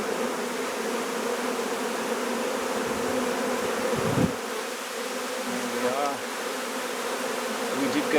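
A swarm of honey bees around a beehive produces a dense, continuous buzzing hum, loud and close throughout, with individual bees occasionally passing nearer.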